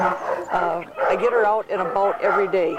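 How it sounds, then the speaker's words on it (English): A dog yips and barks in short bursts beneath steady close-up talking, at a busy place with many dogs used for obedience classes and leash work. "You can hear the dogs in the background."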